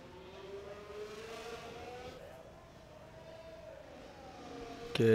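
Race car engines drone faintly as cars leave the pits in a racing video game, a steady distant whine that slowly rises and falls in pitch, with a louder burst at the very end.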